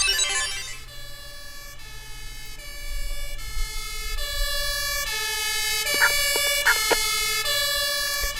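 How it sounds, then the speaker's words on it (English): A fire engine siren in the video game Emergency 4 wails in repeating two-tone cycles, loud and close, with a low engine rumble underneath and a few short blips near the end. "At least in the UK, I do feel like we have some slightly more suitable sirens."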